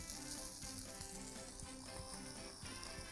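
Toast bread and minced meat sizzle steadily on a hot grill, a continuous close frying crackle with small pops and occasional light scrapes throughout.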